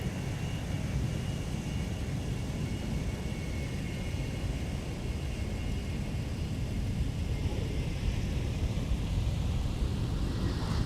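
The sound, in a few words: Airbus A320neo airliner landing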